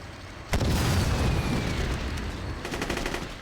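A tank cannon shot and explosion in a Chechnya mod of a military video game, a sudden loud boom followed by sustained rumbling gunfire and crackling bursts, with no talking.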